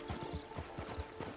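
Horse hooves clip-clop at a steady walking rhythm in Red Dead Redemption 2, close and distinct, with a faint whinny and no talk over the steps.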